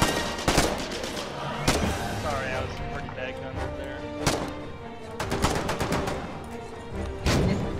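Repeated gunshots and bursts of automatic fire in the war video game Foxhole, sharp loud cracks in irregular clusters throughout, with players talking over the shooting.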